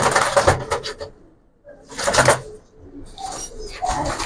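Young Giribaz pigeons fluttering and shuffling in a loft, with a few soft coos mixed among bursts of wing and body movement, close by, with brief quiet gaps in between.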